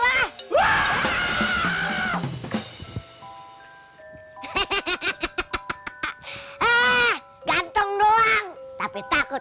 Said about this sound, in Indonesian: Berisik banget, teriak-teriakan